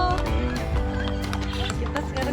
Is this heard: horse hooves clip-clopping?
yes